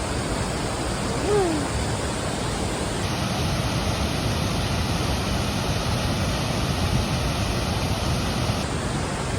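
Tat Champi waterfall in Laos pours in a loud, continuous roar of falling water, steady and close throughout, with no clear talk over it.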